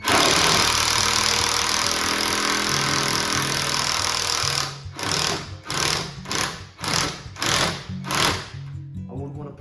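A drill-driver drives a screw into a dabbed thermalite block wall while kitchen base and wall units are fitted. A steady high whine runs for several seconds, then breaks into about six short, pulsing bursts.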